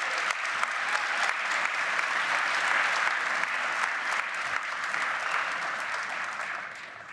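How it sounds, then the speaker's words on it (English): Steady applause from an evening crowd at the Imagine Portland 2018 event, sustained and even throughout, slowly easing off toward the end with no voices over it. "How about a round of applause for all of our generous sponsors?"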